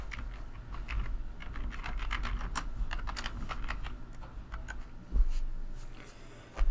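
Typing on a computer keyboard: a quick irregular run of close, soft key clicks, with a couple of louder thumps near the end.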